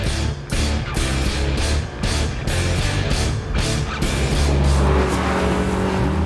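Lotus Elise sports car driven hard on a race track, its engine note loud and close, broken by a series of sharp gear-shift cuts roughly every half second before a steadier, deeper roar takes over.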